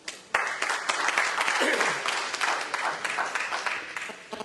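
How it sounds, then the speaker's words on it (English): Conference audience applauding a speaker at a Make In India non-ferrous metals industry event, a sustained round of dense clapping that starts abruptly and fills the hall, with a voice briefly heard beneath it. "I request you all to give a big round of applause to Mr. Tarvinder Singh, please."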